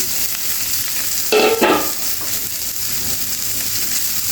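Ginger and cumin paste dropped into hot oil in a pan while cooking a vegetarian pointed gourd dish, bursting into a loud sizzle with crackling that settles into a steady fry, with no talking.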